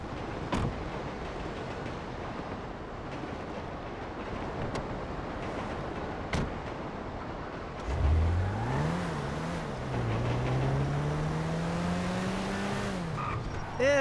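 Car driving in Grand Theft Auto V, a steady engine drone that rises into a climbing, revving whine partway through, with brief sharp knocks and a loud ending.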